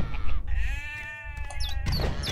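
A sheep in the Overlord: Fellowship of Evil video game lets out a couple of loud, wavering bleats up close, with a short break between calls.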